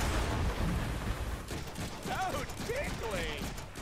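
Gunfire in the Deadpool video game: rapid, close bursts of shots that continue without a break, mixed with other loud game effects and a few chirping electronic sounds.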